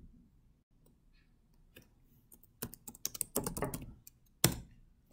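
Keys tapped on a computer keyboard, typing a short command: a few faint clicks, then a quick close burst of keystrokes and one final firm key press, with no talking.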